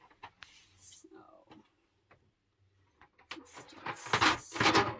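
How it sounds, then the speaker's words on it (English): An Epson EcoTank 8550 printer converted for sublimation runs a test print for a 30 ounce skinny tumbler, with scattered soft ticks and clicks before a loud, dense mechanical whirring swells near the end. "We're going to do a test print."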